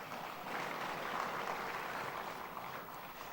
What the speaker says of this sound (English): If you want to clap for the youth, clap for us